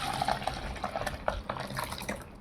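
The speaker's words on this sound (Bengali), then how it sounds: "এখন আমি দুধ এই আমের পাল্পের মধ্যে ঢেলে দিচ্ছি" Milk pouring into raw green mango pulp in a bowl, a steady liquid splash running for about two seconds, close and fairly loud, with no voices.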